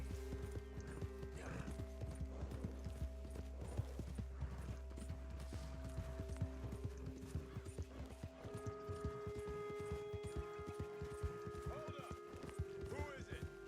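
Ardennes horse in the video game Red Dead Redemption 2, hooves clip-clopping in a steady walking rhythm throughout, with a whinny and mechanical clicking mixed in and voices talking over it.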